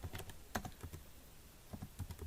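Quiet, close typing on a computer keyboard, with irregular clusters of soft key clicks and a short pause midway.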